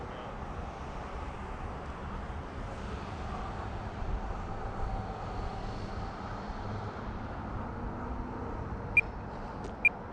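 An E-Flite Air Tractor 402 RC model airplane on floats drones steadily as it flies over snow, with a faint, even motor hum at moderate distance and two brief clicks near the end.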